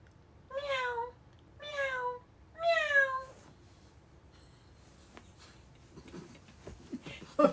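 A human voice imitates a cat, giving three drawn-out, clear meows in an even rhythm close to the listener, followed by quiet rustling.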